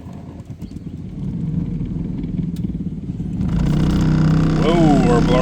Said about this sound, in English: Whoa, our blower motor, I think, has seen better days.